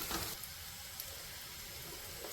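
Cauliflower pieces for chilli gobi fry in hot oil, making a quiet, steady sizzling hiss that runs unbroken through the whole moment.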